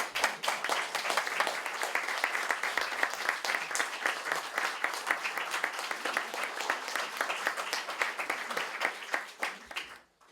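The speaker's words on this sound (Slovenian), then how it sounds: "sem prepričan, da vas bo publika nagradila z gromkim aplavzom" Sustained, dense applause from an audience at a book launch marking a centenary, steady and full for about ten seconds before tapering off abruptly at the end.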